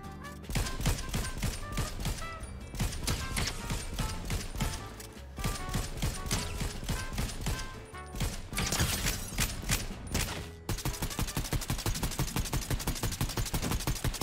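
Rapid Fortnite gunfire crackles in dense, continuous bursts of shots, loud and close, with brief gaps between volleys and no talking.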